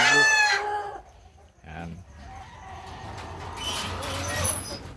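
Brahma and Rhode Island hens cluck and call close by in a backyard coop, one loud burst at the start, then softer clucks over a steady background, with a brief spoken word.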